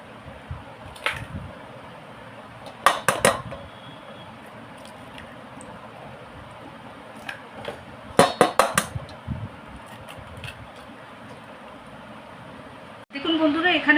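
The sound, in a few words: cracking twelve eggs into a bowl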